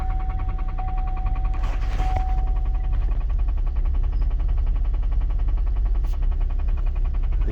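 A 2012 GMC Envoy with a bad motor idles with a steady, rapid mechanical pulsing and a rough low rumble, close by and alone, with a couple of brief knocks early on.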